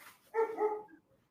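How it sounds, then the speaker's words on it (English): A neighbor's dog gives a single short bark, clear but somewhat distant, over otherwise quiet surroundings. "That's the neighbor's dog"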